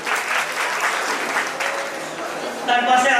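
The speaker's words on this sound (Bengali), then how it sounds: "ওনার জন্য একটা করতালি হয়ে যায়।" Applause at a company annual picnic as the GM is welcomed on stage, a crowd clapping steadily and swelling louder near the end, with a voice briefly over it.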